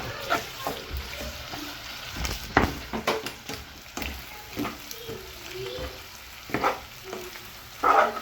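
Whole spices including fennel, cumin, fenugreek, cardamom, cinnamon and cloves crackle in hot oil for a squid curry, a soft steady sizzle with scattered pops and a few utensil scrapes, close by with no talking.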